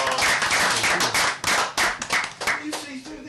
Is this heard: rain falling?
no